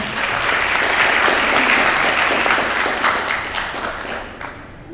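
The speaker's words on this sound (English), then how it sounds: "please join me in giving all other debates a warm round of applause" Sustained applause from a sizable crowd, steady and dense throughout, tapering off slightly toward the end.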